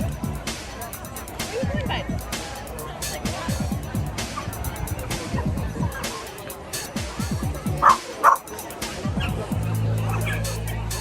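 Several dogs bark and yip in short bursts at a busy pet festival, close and fairly loud over a steady murmur of crowd chatter, with a few sharp high yelps standing out.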